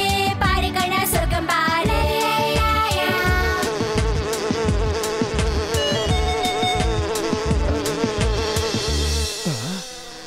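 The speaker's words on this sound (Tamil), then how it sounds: "தேனீக்கள் பறக்கிறத பார்த்தா பக்கத்துல தான் எங்கேயோ தேன் கூடு இருக்கணும்னு நினைக்கிறேன்." Bees fly and buzz near a beehive, a dense, steady droning hum with layered tones that stays loud and continuous throughout.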